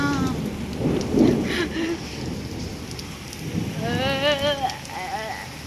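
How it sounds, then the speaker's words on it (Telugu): Heavy rain pours steadily as a broad, continuous wash over a residence, with a voice talking over it and a brief whistling tone near the end. "మామూలుగా పట్టలేదన్నమాట వర్షం, దారుణంగా పడుతుంది"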